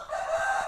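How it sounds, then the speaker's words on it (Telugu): A fighting-breed rooster crows once at a poultry sale, a short, close, strained call that cuts off abruptly. "ఇక్కడ వచ్చేసి అన్ని రకాల కోడి పుంజులు ఉన్నాయి"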